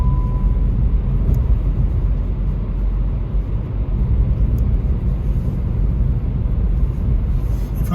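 A car driving at a steady 40 mph on a driving-test route near a roundabout, with a continuous loud road and engine rumble heard from inside the cabin, without speech.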